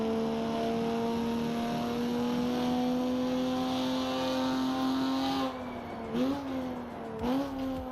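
An Alfa Romeo race car in the Rennsport racing game drones loudly from the exterior exhaust at sustained high revs, then drops and blips through quick gear shifts near the end; no voices.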